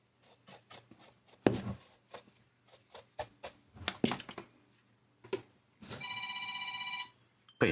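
A telephone rings briefly with a bright electronic warbling tone, breaking into a quieter stretch of handling noises and clicks on a workbench setup; no speech over it.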